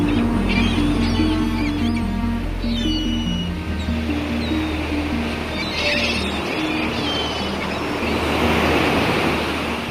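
Sea waves wash and surge around a small wooden rowing boat in a continuous close rumble with wind noise, while a low music drone plays underneath throughout.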